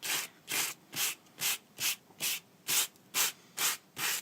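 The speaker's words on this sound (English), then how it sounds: "you can even sort of knock it back again with your sanding block if you wish." A sanding block rubs back and forth over dried grunge paste in about ten even, rhythmic strokes, each a close, soft scratchy swish, heard alone in a quiet room.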